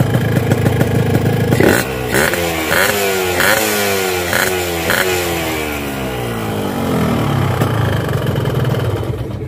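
A motorcycle engine revs hard in several quick bursts, each rising and falling sharply, with a loud, throaty aftermarket exhaust rumble between blips, close to the microphone.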